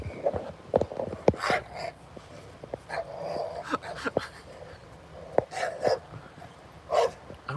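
A dog wearing a choke collar barks in short sharp yelps mixed with whimpers and low growls, close by and intermittent over several seconds.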